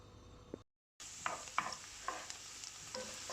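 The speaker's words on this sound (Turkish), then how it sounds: "Şimdi soğanımız iyice pembeleşene kadar kavuracağız burada." Chopped onions sauté in olive oil and a spoonful of butter for an Iğdır-style pilaf, sizzling steadily close up with scraping stirs and small clicks after a brief silent gap.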